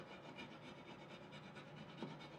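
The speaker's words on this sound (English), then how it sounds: "I'm just going to rub this down with my fingers to start." Fingers rub down Cricut vinyl with a soft, continuous scratchy rubbing that sweeps back and forth close by, faint and with no talking.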